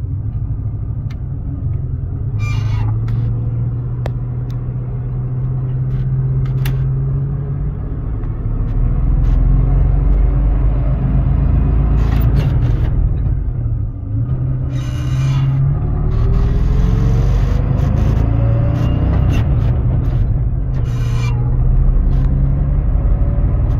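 A Chevy K30 Squarebody truck with a Holley Quadrajet carburetor and 4-speed cruises through town, its engine a loud, steady low rumble inside the cab that rises and falls as it shifts and accelerates, with light rattles.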